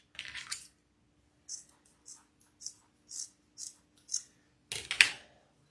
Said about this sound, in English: So I'm going to go ahead and cut this little end off.